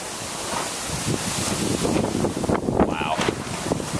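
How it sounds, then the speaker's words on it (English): Wind blows hard outdoors around a home renovation site, a rough, gusting roar buffeting the microphone throughout, rising and falling in strength with no voices over it. "so the wind's not over yet"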